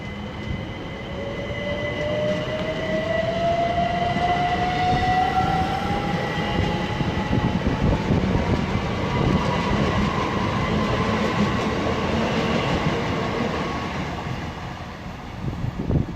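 A Great Western Railway Class 387 electric train departs Slough station on the Great Western Main Line. A rising electric motor whine climbs steadily over loud rolling rumble and wheel clatter, which fades slightly toward the end.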